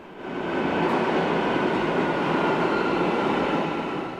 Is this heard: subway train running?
yes